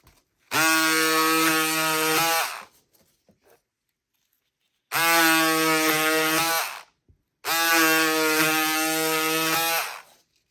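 Pink cordless electric power scissors cutting thin strips give three steady, close buzzing motor runs of about two seconds each, separated by short silences.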